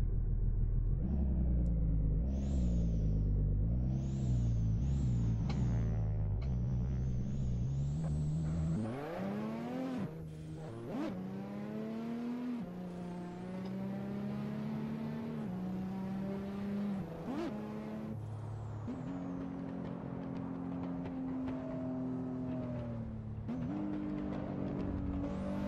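A car engine in the racing game Assetto Corsa, in traffic mode, comparing a Mazda and a Nissan, revs and shifts through gears for about 25 seconds, with rising and falling engine pitch, loud and steady, with no talking.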